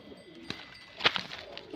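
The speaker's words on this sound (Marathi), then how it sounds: "आतमध्ये एक कबूतर थोडंसं आजारी" A slightly sick pigeon coos softly once or twice against a quiet background, with a faint flutter of other small sounds nearby.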